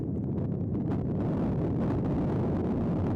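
Strong gust of wind buffeting the microphone at an outdoor college baseball game, a loud, continuous low rumble that fills the whole moment with no voices over it.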